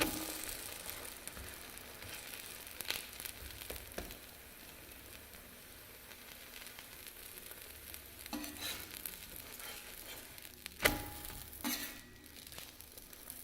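A dosa cooks on a pan over low heat with a little oil, a faint, steady sizzle with occasional soft clicks and scrapes from nearby utensils.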